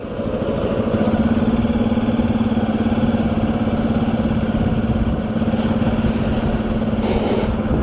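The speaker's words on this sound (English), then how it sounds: "I'm not using the accelerator. The bike is just moving on its own." Motorcycle engine running steadily in its highest gear while the bike coasts with the throttle closed, a continuous low droning hum close by and without talk.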